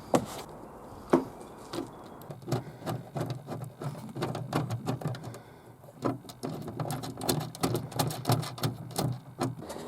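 Bolts are worked in to mount a CCTV camera onto a van: rapid, irregular mechanical clicks and ratcheting taps ring inside the vehicle, close and moderately loud, with a few heavier knocks at the start.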